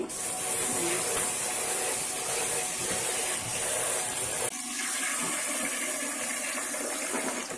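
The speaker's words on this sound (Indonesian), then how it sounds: "ini kacang hijau enggak direndam, langsung dicuci aja Bunda. Ini kita cuci dulu." Running water pours steadily over mung beans being rinsed unsoaked in a bowl, a continuous close hiss and splash that shifts slightly midway, with no voices.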